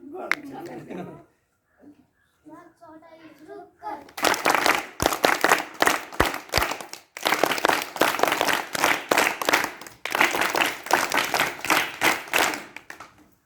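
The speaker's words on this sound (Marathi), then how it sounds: "आपण सर्वांनी स्वागत टाळी पण वाजवायची" Children and guests at a village district council school event clap in bursts of loud, close applause, with someone speaking briefly beforehand and short pauses between rounds of clapping.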